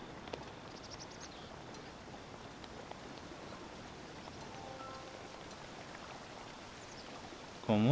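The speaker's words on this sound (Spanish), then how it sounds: "De hecho, aquí hay una mini cascada." A small waterfall in Zelda: Breath of the Wild gives a soft, continuous rushing splash that stays low and even throughout, and a voice cuts in briefly at the very end.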